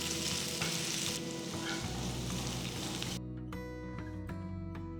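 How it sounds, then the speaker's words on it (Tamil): Oil sizzles and crackles steadily in a hot pan as sliced onion and green chilies fry, the hiss dropping suddenly partway through, leaving quieter spitting and pops. "அதே பேனில் ஒரு வெங்காயம் மெலிசா நறுக்குனது, 3 பச்சை மிளகாய் கீர்னது போடுறேன்"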